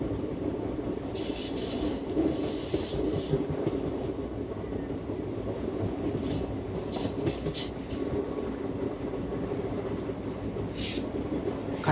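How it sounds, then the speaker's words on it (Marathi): Intercity Express train pulling out of Khandala station into the ghat section: a constant loud rumble of wheels on track with bursts of high metallic squealing at intervals, close and sustained, with no talking. "आता खंडाळा रेल्वे स्टेशनवरून गाडी डिपार्चर झालेली आहे"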